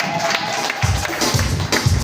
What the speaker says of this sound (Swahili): Ongeza tena makofi kwa Yesu.